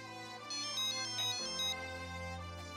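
A mobile phone rings with an incoming call, a bright electronic melody of repeating tones playing loud and unanswered for a few seconds.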